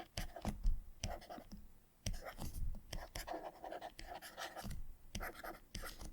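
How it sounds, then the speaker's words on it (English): Chalk or marker scratches out equations on a board in a lecture setting, a quiet run of irregular scraping strokes with brief pauses between them. "I'll just write that out."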